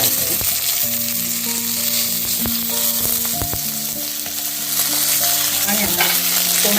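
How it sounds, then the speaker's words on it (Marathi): Onion and tomato sauté in a pan for a spinach-ball gravy, with a steady, fairly loud frying sizzle throughout, punctuated by scattered clicks and scrapes of a spoon stirring against the metal. "तो शिजेपर्यंत मी ते परतून घेतो टोमॅटो कांदा वगैरे सगळं व्यवस्थित शिजलेलं आहे"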